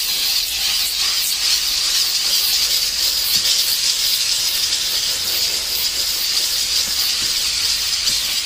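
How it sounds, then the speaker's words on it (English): Steady, loud hiss of a Harbor Freight Central Machinery steam cleaner blasting steam inside a Mercedes CL600, continuous and close with no talk throughout. "And you can see how well it's steaming."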